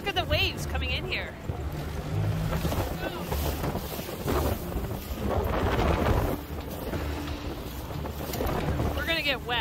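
Strong wind gusts and choppy waves slap around a boat riding out a windstorm, a steady roaring wash with wind buffeting the microphone, while voices call out over it.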